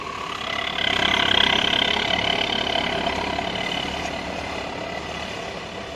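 A Hino RK8 intercity bus engine rumbles as it pulls out of a bus terminal, a steady, fairly loud diesel drone that swells briefly early on and then holds evenly.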